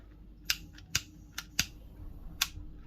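Scissors snip off a loose thread tail during sewing, making a few sharp, quiet clicks spaced irregularly against a hushed room.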